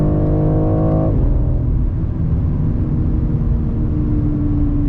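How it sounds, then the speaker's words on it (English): Engine of a 2023 BMW X4 M Competition pulling hard off the mark, a loud steady rumble heard from inside the car, with a higher whine that drops away after about a second. "Awesome pickup from this engine. It just goes really good off the mark"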